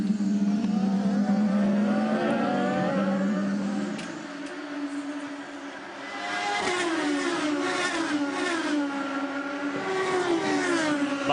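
A pack of IndyCar race cars streaks past on the Edmonton street circuit, their engines wailing loud and close with rising and falling Doppler pitch as car after car goes by in a continuous stream.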